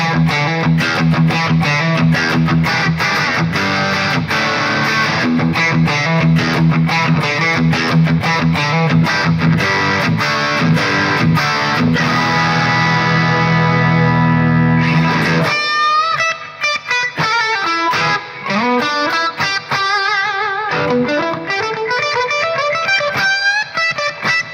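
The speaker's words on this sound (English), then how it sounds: "we've got bridge pickup, which is the quarter pounder stack, so you can get sounds like this" A loud, heavily distorted electric guitar, a Fender Stratocaster on its Quarter Pounder stack bridge pickup, chugs rhythmic chords, then switches to sustained bent notes and lead lines.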